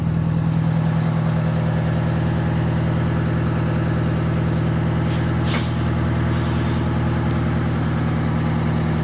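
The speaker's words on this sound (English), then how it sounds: "Roll back just a little bit and then jack the brake" A Wanderlodge bus idles with a deep, steady engine rumble while its air brake lets out two short bursts of sharp hissing midway, loud and close, with no speech.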